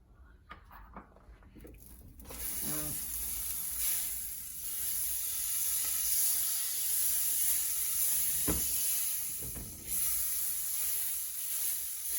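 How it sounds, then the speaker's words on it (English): A tablespoon of butter melts in a cast iron skillet heated to medium-high, giving a steady, gentle sizzle and hiss that starts after a few soft clicks and carries on quietly throughout. "first I'm going to heat my skillet to a medium-high heat. And I'm going to add about 1 tablespoon of butter."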